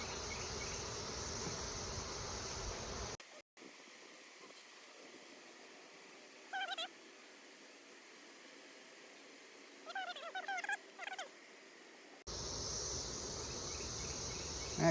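Honey bees crowd frames inside a Layens hive set up as a mating nuc, buzzing in a loud, dense hum at the start and end, with a quieter stretch between broken by short bursts of buzzing.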